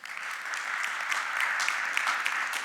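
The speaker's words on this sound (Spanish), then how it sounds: "Denle un aplauso al Señor." A church congregation applauds during a sermon, with dense, steady clapping from many hands filling the room throughout at moderate loudness.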